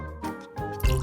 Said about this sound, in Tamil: முதலில் கண்ணாடியில கொஞ்சம் தண்ணீர் ஊற்றுவோம்.